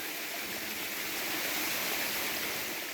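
Water from the Krok Ma Tai waterfall and its stream at Khao Phai near Pattaya pours in a continuous, even hiss and rush, close and steady with no voices.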